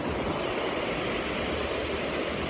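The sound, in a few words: massive waterfall roaring, Krimml waterfall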